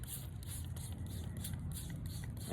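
A high-quality spray bottle mists base coat paint over an owl statue in a steady continuous hiss with faint pulsing bursts, fairly quiet and close, with no talking.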